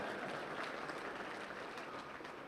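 Faint, continuous applause rises from the audience at an NAACP keynote address, a soft, even wash of many hands clapping with no voices over it.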